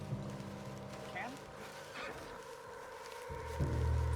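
A spooked horse in the Red Dead Redemption 2 video game snorts and whinnies near the Canadian border, hooves clip-clopping close by, with game ambience and a voice talking over it.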